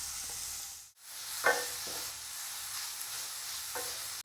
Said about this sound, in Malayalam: നമ്മുടെ ഗ്രേറ്റ് ചെയ്ത് വെച്ച ക്യാരറ്റ് ഇട്ട് നമുക്കൊന്ന് 2-3 മിനിറ്റ് അവനെ ഒന്ന് ചിക്കിയെടുക്കാം